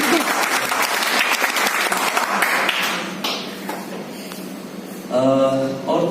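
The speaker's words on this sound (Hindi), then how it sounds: "जबरदस्त ताली।" Audience applause fills a crowded indoor gathering, dense steady clapping from many hands for several seconds, fading a little before a short burst of talk near the end.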